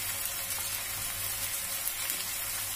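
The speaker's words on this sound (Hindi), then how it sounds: "तेल फूलने लगा किनारे से, 2 चम्मच धनिया पाउडर डालूंगी।" Coriander powder hits hot oil in a pan while cooking spinach kofta curry, giving a steady, dense hiss of frying that holds evenly throughout with no talking.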